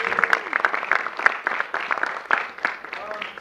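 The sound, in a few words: audience applause at improv comedy show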